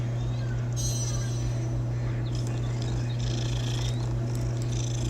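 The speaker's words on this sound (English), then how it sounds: "Oh, look, a kitty." A cat purring steadily inside the Hogwarts Legacy video game, a continuous low rumble running the whole time beneath game music and ambient effects.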